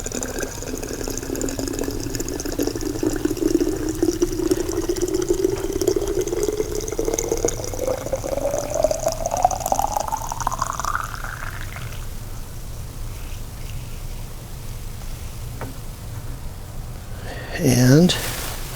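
Hot water pours steadily into a narrow-necked vessel, its gurgling pitch climbing as it fills, then stops. A short clink or splash follows near the end.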